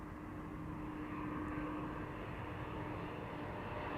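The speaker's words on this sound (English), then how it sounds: "This is KLM flight 980 arriving from London City." A KLM Embraer 190 passenger jet arriving at Amsterdam Schiphol Airport from London City gives a steady, distant, even engine roar that neither fades nor builds, with no talking.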